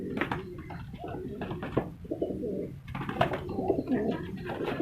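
Pigeons coo steadily at a pigeon market in Multan, Pakistan, their soft, rolling calls repeating close by over a busy background murmur.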